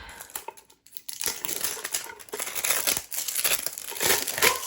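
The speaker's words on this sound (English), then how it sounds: "I'm going to break out some new transfer tape" New transfer tape crinkles and crackles up close as it is peeled and handled for a glitter tumbler, continuous dense rustling with a brief quiet break near the start.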